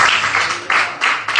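Church congregation applauding, a dense burst of clapping in short surging waves, loud and close, with no voices over it.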